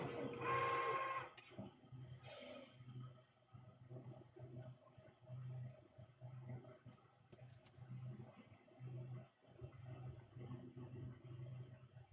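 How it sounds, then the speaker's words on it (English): A direct-to-garment printer runs a print on a T-shirt, its carriage humming in a steady rhythmic back-and-forth pattern, moderately near, with a brief louder mechanical burst at the start. "Let me cover that as soon as I start the next print here after this one gets done."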